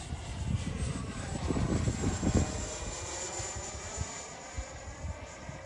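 An Avanti S V2 model jet flies past, its turbine a steady rushing roar with a thin high whine above it, swelling slightly as it nears and then easing off at a middling distance.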